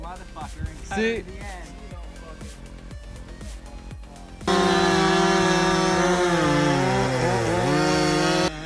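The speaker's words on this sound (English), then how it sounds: "Listen to that modified Husqvarna 395." A modified Husqvarna 395 chainsaw with a 42-inch bar biting into an Oregon hazard tree, a loud, sustained high-revving whine that starts abruptly halfway through after a stretch of quieter mixed sound.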